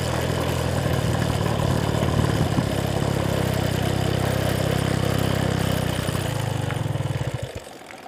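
A car engine runs steadily and loudly on its own, a constant idling drone with a slight rise in pitch, then tapers off near the end.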